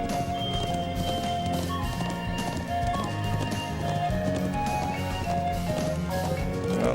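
Horse hooves clip-clopping at a steady rhythm in the video game Trails of Cold Steel, with an occasional neigh, mixed under continuous background game music and ambience.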